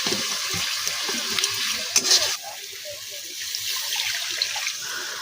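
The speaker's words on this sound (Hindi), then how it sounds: "मसला मछली कषे सारापर पानी दिगला।" Water is poured into a pan of fish simmering in spiced curry masala, a steady close splashing rush that swells briefly near the middle and then settles into a softer bubbling hiss.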